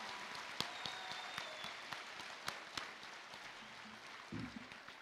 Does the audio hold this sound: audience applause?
yes